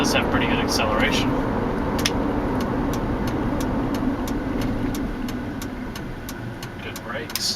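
A 2002 Jeep Liberty Limited accelerating on the road, a steady mid-pitched engine and tire drone heard from inside the cabin with a regular light ticking, while someone talks over it.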